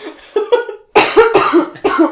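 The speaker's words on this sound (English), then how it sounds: "I've had a little bit of a raspy cough the past few weeks." A short series of raspy coughs, close and loud, in quick bursts one after another.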